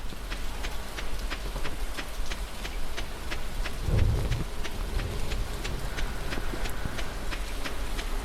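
Steady rain patters in the farming video game Stardew Valley, a dense even hiss with regular dripping ticks, and a deep rumble of thunder swells briefly midway before fading back under the rainfall.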